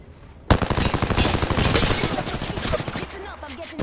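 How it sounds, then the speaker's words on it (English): Gunfire in the video game Apex Legends starts abruptly as rapid machine-gun bursts, loud and close, then tapers off near the end. "Listen up, I'm getting shot at."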